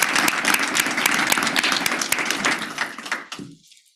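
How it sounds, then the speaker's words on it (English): A room at a regular board meeting breaks into brisk applause for an honoree, a full burst of many clapping hands that thins out and stops abruptly after about three seconds. "So round of applause for William Greiner."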